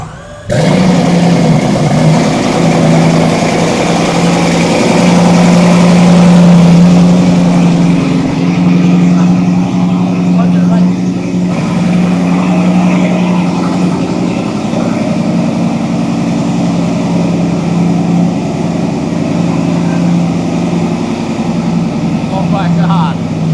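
A Bugatti Bolide race car's loud, heavy engine starts, then roars and runs steadily with a deep rumble throughout, while people talk over it.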